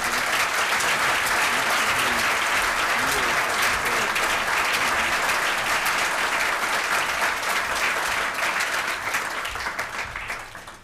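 Sustained applause from a large dinner audience honoring a guest at a school's annual dinner, dense and steady throughout before easing slightly at the end.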